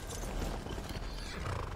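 A horse in the Skyrim video game is dismounted, followed by a brief run of hollow hoof clip-clops and low thuds, close and fairly loud, with no voices.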